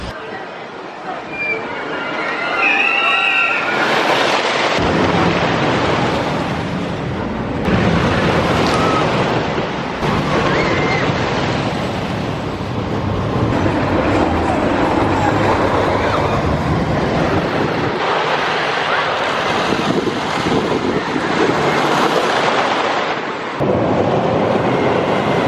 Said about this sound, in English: Okay, so I just got off of Thunder Run. Very solid coaster.